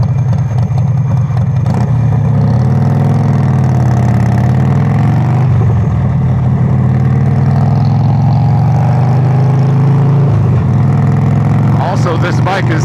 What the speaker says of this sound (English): this bike is not for anybody who does not want a loud bike